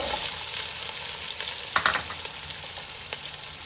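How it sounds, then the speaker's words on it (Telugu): Onions frying in oil in a pot with star anise and cinnamon for a prawn and egg biryani, a steady close hiss of sizzling with a few brief stirring clatters and no talk. "ఉల్లిపాయల్ని బాగా వేగనిద్దాము"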